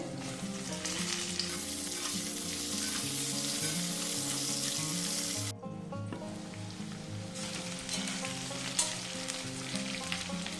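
Kohlrabi and potatoes frying in a pan with panch phoron spices, a dense, loud, continuous sizzle that drops briefly midway and then resumes at a similar level.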